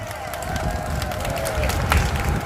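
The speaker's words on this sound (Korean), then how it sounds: "큰 박수 받으시기 바랍니다" Crowd applause at an outdoor political rally, a broad roar of clapping and crowd noise that swells toward the end, with a few sharper claps standing out.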